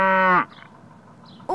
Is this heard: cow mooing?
yes